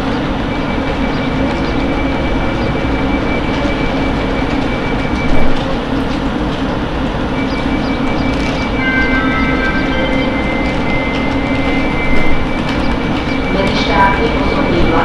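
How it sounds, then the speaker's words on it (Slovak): A passenger train waits at a platform in Púchov station, a steady low rumble and hiss of the idling train filling the scene with faint tonal whines and a couple of brief clunks, no clear speech. "Medzištátny osobný vlak smer Dunky pod Machitou, pravidelný odchod 12 hodín 24 minút, stojí pri nástupišti 2, koľaj 8 vľavo, pripravený na odchod."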